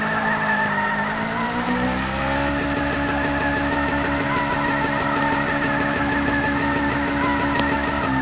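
Japanese-style car drifting with tires skidding and squealing continuously under a steady engine drone, loud and close throughout, with no talk.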